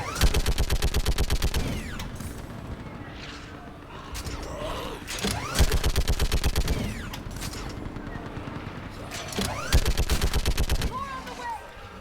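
Automatic weapons fire in a Mass Effect 3 battle: three rapid, loud bursts of rattling gunfire, separated by shorter pauses, with mechanical clanks and shouting voices in between.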